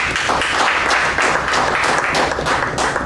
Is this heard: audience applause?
yes